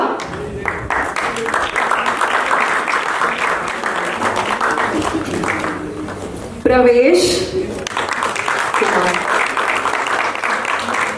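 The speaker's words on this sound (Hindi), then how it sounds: "सभी दर्शकों से निवेदन है, जोरदार तालियां बजा दीजिए।" An audience at a stage event bursts into steady, loud applause that runs the full length, with a brief louder surge partway through and a voice speaking over it.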